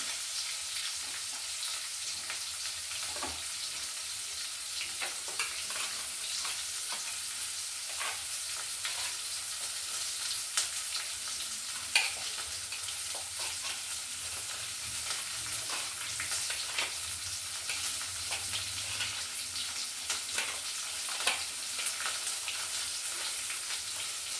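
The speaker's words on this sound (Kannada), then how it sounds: "ಒಂದು ಈರುಳ್ಳಿ, ಕಚ್ಚಿಮಿರ್ಚಿ ಹಾಕ್ತಾ ಇದ್ದೀನಿ." Onion and green chili fry in a pan with a steady, faint sizzle and occasional light stirring clicks throughout.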